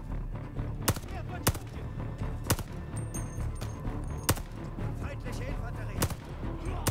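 Gunfire in Call of Duty: Vanguard from a weapon with heavy recoil: sharp, loud single shots fired at irregular intervals, about eight in all, over a low, busy game background.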